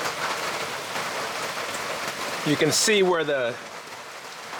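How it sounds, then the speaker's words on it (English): Steady rain drums on the roof of a firewood storage shed as a constant hiss throughout, while someone speaks briefly in the middle. "And yeah, it's raining. It's coming down right now."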